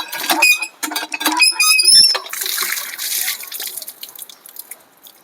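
Hands and feet being washed with water outdoors in a grass field, with close dripping, splashing and pattering that is busy at first, then settles into a softer, steadier trickle.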